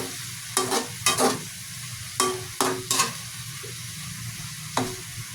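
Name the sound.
stirring adobo meat with soy sauce in a pan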